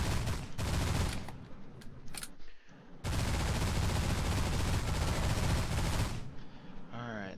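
Spaceship weapons firing in the space game Destination Sol, dense rapid bursts of blaster fire in long loud runs, broken by a short gap and fading out at the end.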